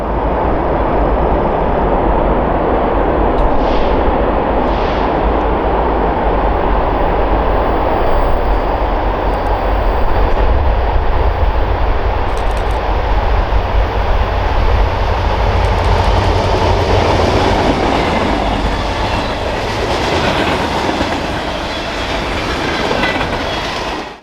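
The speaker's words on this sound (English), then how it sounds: "an eastbound local freight heading for Sandpoint arrives being pulled by two classic EMD motors" An eastbound BNSF local freight hauled by two classic EMD locomotives, including a former Burlington Northern SD60M, rolls past on a mainline through Idaho forest wilderness with lumber and woodchip cars, a loud steady rumble with clickety-clack wheels and faint squeals.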